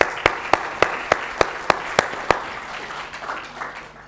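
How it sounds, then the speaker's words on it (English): An audience at a live presentation claps for a volunteer: about eight sharp, evenly spaced claps ring out, then fade into a softer wash of crowd noise. "Give him a clap."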